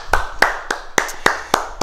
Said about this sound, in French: On s'applaudit, bravo!